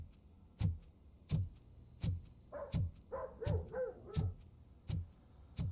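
A dog barks in the video game Robocop Rogue City, a regular string of deep single barks about every three quarters of a second, with a short flurry of yelps in the middle, moderately close and with no voices.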